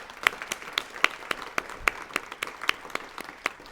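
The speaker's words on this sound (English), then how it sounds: "Can we give them a round of applause, please?" Sparse audience applause at a panel event, with a few distinct hand claps standing out in an irregular rhythm over a light background of clapping.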